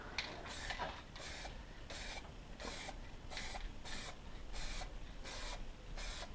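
Short bursts of aerosol spray paint hiss across car wheels for a Peugeot 306 Cabriolet, about a dozen quick, close puffs in an irregular rhythm with no talking.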